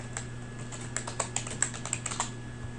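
Code typed on a computer keyboard: a close run of irregular key clicks and taps, a dozen or so strokes at uneven pace over a low steady hum, with no voices.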